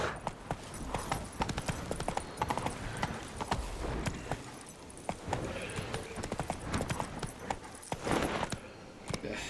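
Hooves of the horse Roach clip-clop steadily in The Witcher 3: Wild Hunt, a continuous walking rhythm of hoofbeats with game ambience and an occasional faint whinny, no talk.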